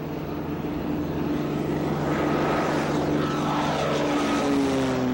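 A propeller airplane flying slow with full flaps, a steady loud engine drone with a continuous hum and a slowly shifting pitch, close and unbroken with no talk.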